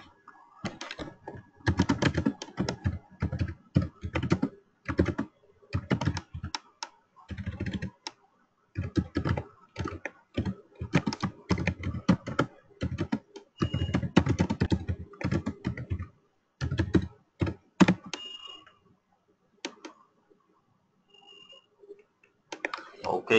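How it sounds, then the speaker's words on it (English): Steady bursts of typing on a computer keyboard, close and crisp, with rapid clicking keystrokes, brief pauses between runs, and quieter taps near the end. "thank you for your patience while I was typing this message"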